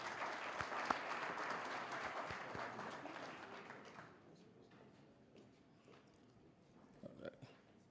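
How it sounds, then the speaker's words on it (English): Audience at an education summit in Gobabis applauds the town's mayor, a burst of group clapping that fades out after about four seconds, followed by quieter room sound with scattered taps and a voice. "Can we give him a round of applause, please?"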